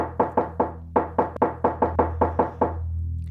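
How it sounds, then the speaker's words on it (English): A rapid, feverish knocking on a wooden door, about a dozen sharp raps in quick uneven bursts, loud and close with no voices. "And Magpie starts feverishly knocking on the door."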